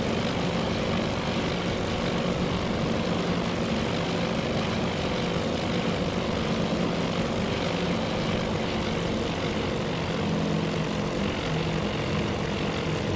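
Steady, unbroken drone of carrier aircraft propeller engines during naval air operations in Task Force Admiral, an even, dense roar that holds at one level throughout with no voices over it.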